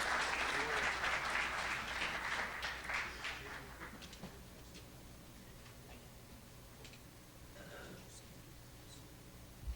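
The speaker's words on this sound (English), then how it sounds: "Let's give him another big round of applause." Audience applause at a student pitch event, loud clapping at the start that thins out into scattered claps and quiet murmuring.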